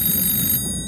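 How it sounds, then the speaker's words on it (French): An alarm bell on the Titanic rings in rapid, continuous bright strikes, fairly loud, then cuts off abruptly, leaving a softer low rumble. "ça les empêche pas de lancer l'alerte en sonnant la cloche et en criant dans un téléphone"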